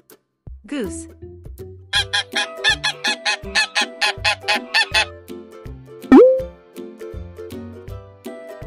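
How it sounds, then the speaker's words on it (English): Domestic goose honking in a rapid run of nasal, harmonic honks, loud and close, with a rising call near the end over a faint background. "Goose."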